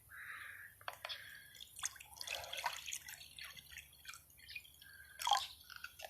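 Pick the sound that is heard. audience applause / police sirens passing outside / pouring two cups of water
pouring two cups of water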